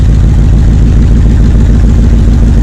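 The rebuilt engine of a homemade 1975 Dodge tow truck runs steadily up close, a loud, low, throbbing idle that continues without a break and with no talking over it.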